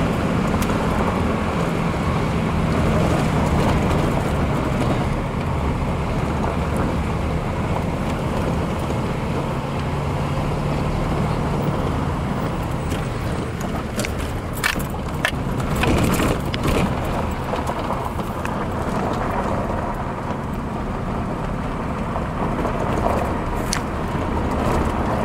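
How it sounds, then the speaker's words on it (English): A 4-wheel drive vehicle climbs a plowed, maintained canyon road on rural property, a steady close road-and-engine rumble with wind buffeting, jostling rattles and a few sharp knocks partway through. "Just trying to give you an idea of what it's like on the drive getting in here."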